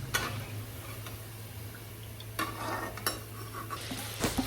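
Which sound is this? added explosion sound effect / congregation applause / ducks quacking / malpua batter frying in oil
malpua batter frying in oil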